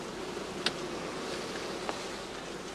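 Honey bees buzz around straw skep hives in a heather-season apiary, a soft continuous hum with two brief close passes by single bees standing out over the quiet drone.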